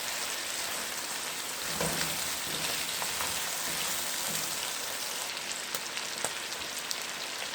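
Half-cooked chicken meat frying in a karahi, a steady dense sizzle and crackle like rain throughout, with occasional louder pops and spits, no talking.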